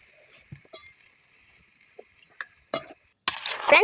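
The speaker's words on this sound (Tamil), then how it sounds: "ஏலக்காயெலாம் சேர்த்தாச்சு இப்போ நல்லா கிண்டி விட்டுக்கலாம்" Kesari with cardamom, cashews and raisins is stirred in a pan, giving a few sparse scrapes and clinks that build into a louder, continuous scraping stir near the end.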